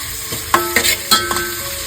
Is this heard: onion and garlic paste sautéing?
yes